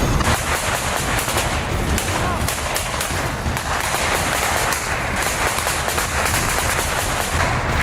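Dense, loud gunfire from live battle footage in the Russia-Ukraine war, with shots and bursts crowding together continuously and no pause.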